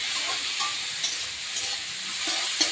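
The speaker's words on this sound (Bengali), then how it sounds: "হলুদ দিয়ে আন্দাজ মতন এবার নেড়ে করে লবণ হলুদটাকে সুন্দর করে সবজিতে" Vegetables, taro stalks for a puti fish dish, are stirred with turmeric and salt in a hot pan, giving a steady soft sizzle with faint scraping and clinks of the spoon.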